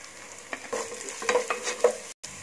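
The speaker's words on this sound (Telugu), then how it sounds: "ఇప్పుడు క్యారెట్ వేసి ఫ్రై చేసుకుందాం" Carrots go into a pan with already fried onions, green chillies and ginger-garlic paste for carrot paneer rice, producing a close sizzle with several scraping stirs before a brief cut to silence.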